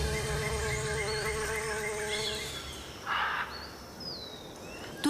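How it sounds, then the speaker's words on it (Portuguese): Bees and other insects buzz steadily in the Amazon rainforest, a dense, continuous drone that holds throughout with faint bird calls over it. "Seu néctar rico atrai abelhas e outros insetos."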